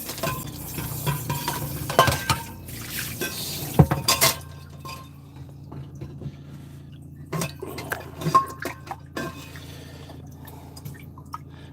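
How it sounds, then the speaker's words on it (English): Dishes, pots and pans being washed in water, with clinks of cutlery and glass, stirring and dripping in irregular bursts, busiest in the first four seconds and again near eight seconds, heard close with no talk. "just do dishes"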